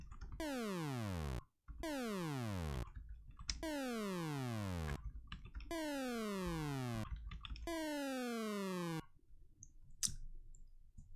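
Synthesized NES sound effect built from sweeps: five loud bursts of stacked tones gliding downward, each lasting over a second with short gaps between, followed by a faint tail.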